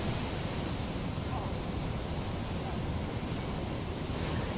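Huge ocean waves at a tow-in surf session pour out as a steady, dense roar of surf and wind, loud and continuous with no break.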